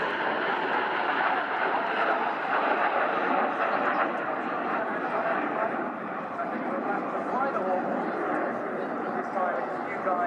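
Red Arrows display jet climbing steeply at an air show while trailing red, white and blue smoke, a continuous loud engine roar holding steady throughout with a commentator's voice running over it.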